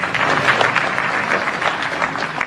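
Audience applause at a political speech on the Waqf Board, dense steady clapping of a sizeable crowd, heard loud and continuous for a few seconds.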